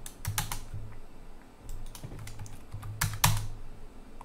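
Keys clatter on a computer keyboard in short bursts of close typing, separated by brief pauses, over a low steady hum.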